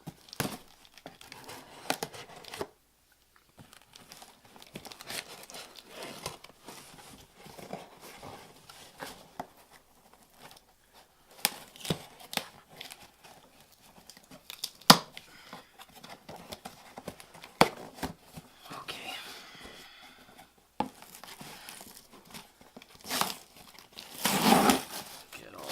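Tape is torn and peeled off the box of a Maisto 1:18 scale Chevy Corvette C7 Stingray diecast model during unboxing, with scattered crinkling, rips and rustling of cardboard and plastic, near and sporadic, with quiet pauses between bursts.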